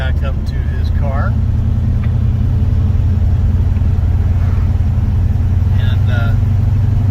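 A 1947 Chevrolet two-door business coupe street rod idles and drives with a steady, loud low engine drone, while a few brief high squeaks and chirps cut in over the rumble.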